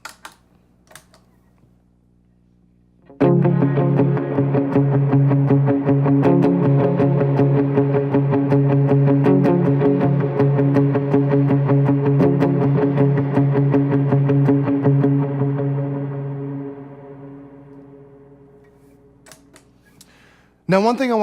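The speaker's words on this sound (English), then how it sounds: "Now those two guitar parts combined into one with effects and a little bit of overdrive sounds like this." Electric guitar with effects and light overdrive plays a steady, layered picking pattern of two combined parts, loud and continuous before fading out near the end.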